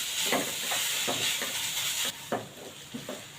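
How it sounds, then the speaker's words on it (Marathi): Paneer sautéing in a pan gives a steady hissing sizzle, broken by about half a dozen soft scraping stir strokes spaced through the stretch, close and moderately loud, with no voice. "आता आपण इथे पनीर चांगलं परतून घेऊया"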